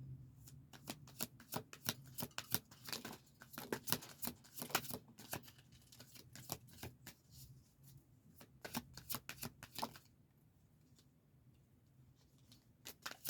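Tarot cards being shuffled by hand in repeated riffling bursts, crisp and close, with brief pauses and no talking.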